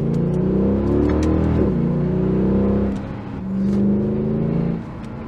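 Mercedes-Benz W211 E63 AMG with its M156 V8 accelerating hard, a loud, close, steady engine roar rising in pitch through two long pulls, with a brief dip between them.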